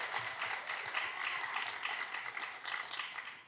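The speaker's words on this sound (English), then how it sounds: "how about a big round of applause" A steady crowd of audience applause fills a piano recital showcase in Riverside, a dense and even wash of many clapping hands heard from a moderate distance throughout.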